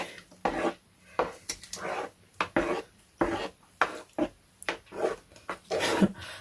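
Glutathione lightening lotion being mixed in a container, producing a series of scraping, knocking stirring strokes with short pauses between them, close and moderately loud with no talking.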